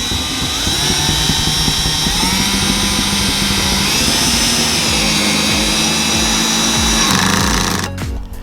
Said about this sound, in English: But we're gonna drill into the other side